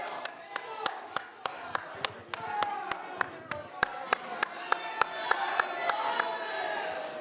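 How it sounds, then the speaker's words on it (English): One person claps in a steady, evenly spaced rhythm at an independent wrestling event, each sharp clap ringing out over a murmuring crowd and a commentator's talking, the clapping continuing throughout and the crowd growing a little louder toward the end. "will you quit clapping and sit down?"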